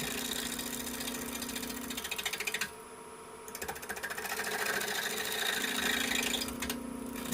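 A wood lathe spins a blank held between centers while a 3/8 bowl gouge rounds a Christmas ornament, giving a steady motor hum with scraping cuts that briefly drop away and return.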